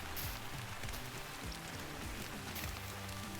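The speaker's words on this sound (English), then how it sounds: "if it would ever stop raining on Layton Lakes," Steady rain falls at Layton Lakes in a hunting video game, a dense, even patter on surfaces that continues without a break throughout, with no voices.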